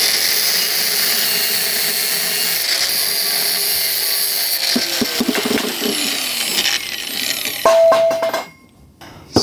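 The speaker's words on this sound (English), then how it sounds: "I am cutting this 10-foot pole in half because it's going to become 2 very long feet" A power saw cuts a 10-foot metal pole in half in a workshop with a continuous high grinding buzz, and near the end a ringing screech and clatter come as the cut finishes.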